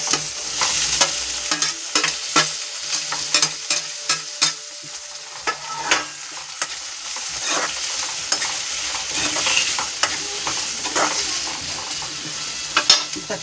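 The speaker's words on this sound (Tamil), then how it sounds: "இந்த மாதிரி வெங்காயம் நல்லா வதக்கிட்டு அந்த பூண்டு போட்டிருக்கேன்" Onion and crushed garlic sauté in a pan for a dry fish fry, with a continuous loud sizzle and frequent scraping strokes of a spatula against the metal, close-up and without speech.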